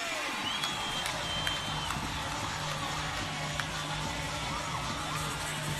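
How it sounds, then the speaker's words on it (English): Soccer fans at a USL Championship match cheer after a Phoenix Rising goal, a steady, distant crowd roar with scattered whoops that holds evenly throughout. "These fans finally have something to cheer about tonight."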